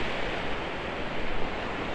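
Ocean surf rolls onto a beach near a resort on a warm day as the tide goes out, a steady, loud wash of broadband noise with no voices.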